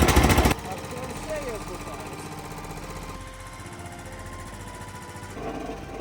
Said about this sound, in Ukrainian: наша машина знову працює